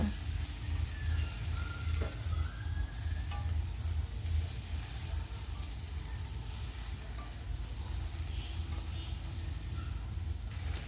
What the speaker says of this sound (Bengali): এভাবে বেশ কিছুক্ষণ আমি মশলাটা সুন্দর করে কষিয়ে নিচ্ছি